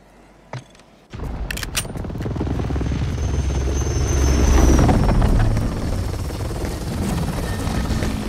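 After a few sharp clicks, a loud Call of Duty helicopter rotor whirs and roars steadily, with distant gunfire and explosions mixed in throughout.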